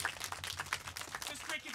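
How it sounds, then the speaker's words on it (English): Comedy-show audience breaking into a round of applause, dense rapid clapping filling the room for a moment at moderate volume. "Let's get a round of applause."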